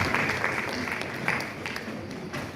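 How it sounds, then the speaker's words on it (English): An audience applauds at an annual lecture series and scientific session, a soft, fairly distant wash of clapping that stays even and then begins to thin out. "Another round of applause, please, to our last speaker."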